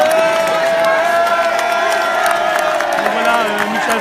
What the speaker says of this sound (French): Michel Delmont acclamé par la foule.